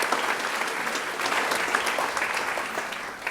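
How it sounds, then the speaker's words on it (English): An audience at an art talk gives a steady, even round of applause, a dense patter of many hands at moderate volume with no voices over it. "Please offer all of these folks a round of applause."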